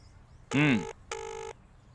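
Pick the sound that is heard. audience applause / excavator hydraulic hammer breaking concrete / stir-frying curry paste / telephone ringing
telephone ringing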